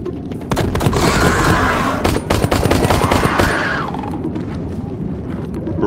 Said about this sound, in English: Burst fire.